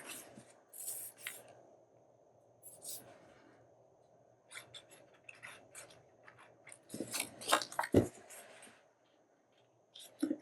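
Scissors snip through a postcard while crafting a hidden journaling page, giving several bursts of close cutting and rasping separated by pauses, with faint background noise.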